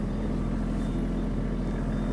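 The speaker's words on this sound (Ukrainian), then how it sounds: "Даю трошки газу, їде трактор швидше." A Kubota GL-261 tractor's diesel engine runs close by in a dense, steady low rumble as it picks up speed, with no audible pauses or voices over the short stretch.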